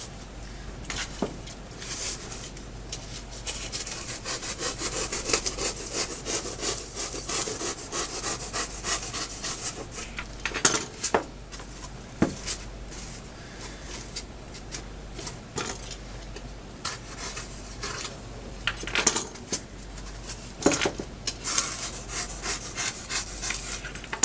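Hand saw or rasp trimming a small wooden piece, close rhythmic rasping strokes in short bursts with pauses and occasional light knocks, no talk.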